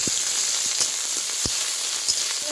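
Garlic fries in hot mustard oil in a wok, giving a steady, dense hiss of sizzling with a few faint taps from a utensil, close and continuous.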